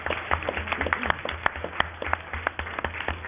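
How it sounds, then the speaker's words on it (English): Scattered audience clapping at a school district board of trustees meeting, uneven individual claps building into light applause, fairly close. "And I think they deserve a round of applause."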